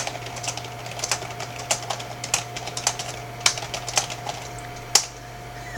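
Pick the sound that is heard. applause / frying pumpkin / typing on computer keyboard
typing on computer keyboard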